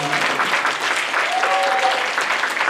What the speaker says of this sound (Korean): 박수 한번 다시 보내주세요.